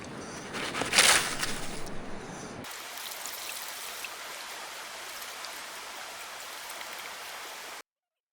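River water flowing steadily with a soft, continuous rushing wash, louder with a brief splashy burst in the first few seconds, then a quieter even trickle until it cuts off.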